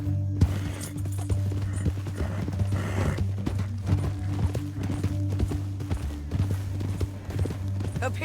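Horse hooves clip-clop in a steady trotting rhythm in the Red Dead Redemption 2 video game, close and loud over a low droning score, with an occasional whinny.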